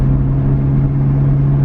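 A BMW F80 M3 running a Bootmod3 Stage 2 tune pulls hard in second gear, its engine holding a loud, steady droning note close by with no voices over it.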